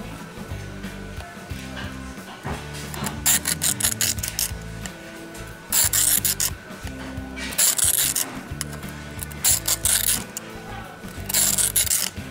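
A knife blade is sharpened on a coarse Work Sharp diamond plate, heard as close, repeated rasping strokes in an even back-and-forth rhythm.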